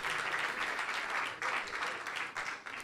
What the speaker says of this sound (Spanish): No sé de dónde vino ese aplauso